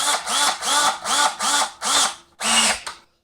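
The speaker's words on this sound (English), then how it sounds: "So now what we're going to do is try to drill it out and work our way around" Power drill boring into a wooden sword handle in repeated bursts, five short whining pulses with brief pauses, then a final longer burst before stopping; close and fairly loud, no talking.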